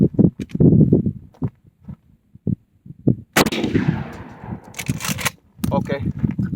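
Several loud, sharp blasts from a Maverick 88 pump-action shotgun firing number 4 buckshot, fitted with a Hogue overmolded rubber stock, with handling noises between shots and someone talking in the early part.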